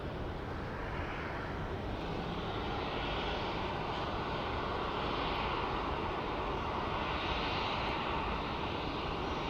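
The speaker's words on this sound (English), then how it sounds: "let's look at this MD-11 that's taxiing" An MD-11 airliner taxiing at Phoenix Sky Harbor airport gives a steady, loud engine roar with a broad rushing hiss that holds constant throughout, with no voices over it.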